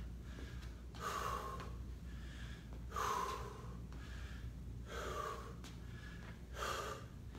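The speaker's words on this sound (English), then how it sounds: "Just catching our breath." A person breathes heavily after a step-class cardio workout, with regular loud inhalations and exhalations repeating about every two seconds, close and without talk.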